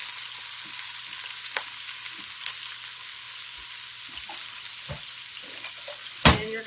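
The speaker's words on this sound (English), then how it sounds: "And you're going to saute this until the veggies get nice and soft." Garlic and chopped vegetables sauté in a pan for a Mexican corn potato soup, giving a steady close sizzle with scattered utensil scrapes and one sharp clatter near the end; no talking.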